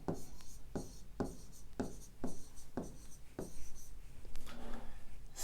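Pen or chalk writing out a five-digit number in words during a fifth-grade math lesson, a steady run of crisp repeated strokes about every half second, close and distinct, followed by softer rubbing.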